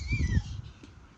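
A brief, faint meow from a cat, a single short call over quiet background rustle.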